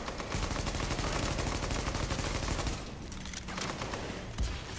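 Video game gunfire in The Division: a dense, sustained burst of rapid automatic fire, loud and steady, then a thinner stretch with scattered shots toward the end.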